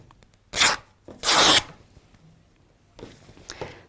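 Fabric is torn by hand in two sharp, raspy rips close by, one short and one longer, followed after a pause by a softer rustle as the cloth is handled.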